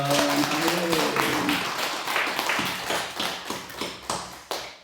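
Many hands clapping together in a church during a Sunday worship service, a dense congregation applause that thins into scattered claps near the end, with brief voices at the start.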